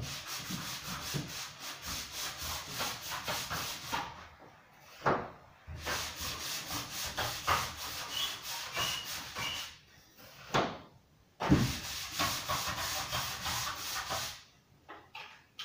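An automated machine polishes plastered walls with steady, rasping rubbing strokes, broken by a few short pauses and knocks, close and fairly loud with no talking.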